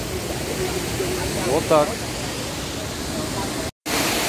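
A roughly 15-metre waterfall in Sapa, Vietnam, gives off a steady, dense rush of falling water for the whole clip, with brief speech over it and a short dropout near the end.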